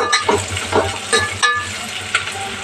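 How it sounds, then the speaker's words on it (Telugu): Bottle gourd frying in a generous amount of oil, with crackling sizzle and several clattering stirs, scrapes against the pan, close and fairly loud. "చూడండి, ఇట్లా వేగించుకోవాలి."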